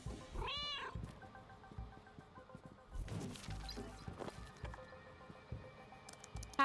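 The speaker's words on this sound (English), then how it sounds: "It looks like whoever is in this office also has a cat." A cat meows once, loud and close, near the start of the stealth video game Schrödinger's Cat Burglar, inside an office, with busy game sounds and clatter continuing afterward.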